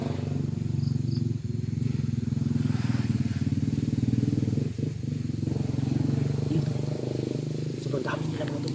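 Motorcycle engines rumble steadily and loudly throughout as bikes are ridden through terrain without a road, a continuous low drone with occasional clatter.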